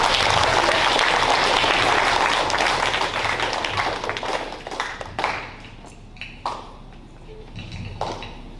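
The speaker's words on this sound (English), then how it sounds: "So let's give her a round of applause." A school audience applauds a guest speaker, a dense burst of clapping that gradually thins into scattered claps and fades over several seconds.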